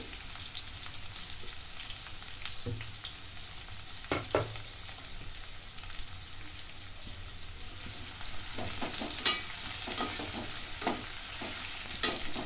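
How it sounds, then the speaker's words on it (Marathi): Chopped onions fry in a pan with a steady, moderate sizzle, broken by repeated close scrapes and clacks of a spatula stirring them, which grow busier toward the end; no one speaks. "कांदा मी चांगला भाजून घेते"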